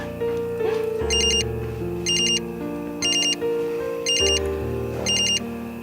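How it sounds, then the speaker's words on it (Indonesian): A telephone rings in five evenly spaced electronic bursts, loud and close, over soft background music with no talking. "Itu telepon dari siapa?"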